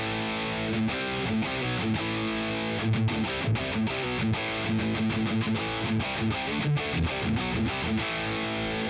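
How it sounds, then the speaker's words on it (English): High-gain distortion from a Boss Katana MK-II amp as an electric guitar plays choppy, palm-muted chords and short bursts with brief gaps, saturated and fairly loud, no talking over it. "And then we got distortion."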